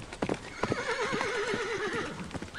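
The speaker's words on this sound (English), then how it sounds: "What's that? What? It's the horse." A horse's hooves clip-clop in uneven beats while it neighs in a long, wavering whinny, fairly close and clear, with no voices over it.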